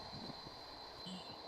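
Trains on a railway line beside apartments, where KTX high-speed trains run on the upper track and conventional trains on the lower one, make a steady, faint, distant rumble with a thin high whine.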